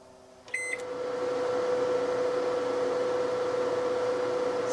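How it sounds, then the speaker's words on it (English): A Sunbeam RV microwave oven powered by a Jackery Explorer 1000 power box beeps briefly at start, then settles into a steady electric hum with a fan whirr, running continuously and moderately quiet. "Let's see if this box can run my microwave."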